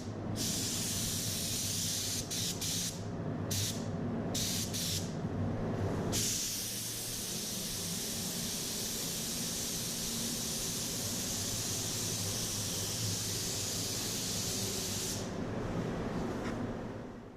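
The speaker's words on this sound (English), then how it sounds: "I like to set my clear coat spraying pressure around 20 psi." A paint spray gun set to about 20 psi hisses as it lays clear coat on a candy red pearl 2014 Toyota Camry, a loud continuous spray cut by a few short stops early on.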